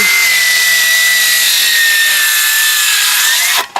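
A jigsaw cuts steadily through a 3.5-inch wooden deck post, loud and close, with a continuous high buzzing rasp that stops abruptly near the end.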